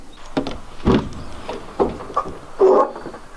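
A door is pulled open through several separate rattling, sliding scrapes and knocks, each short, with quiet gaps between them and one louder grinding slide near the end.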